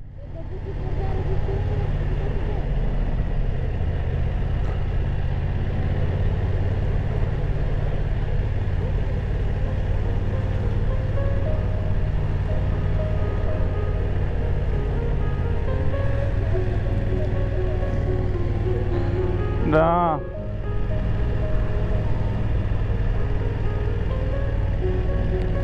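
Steady, close engine rumble and wind roar from a BMW F900R motorcycle being ridden, holding a fairly even drone throughout with a brief rising whine near the end.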